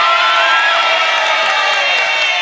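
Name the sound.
studio audience applause and cheering for a contestant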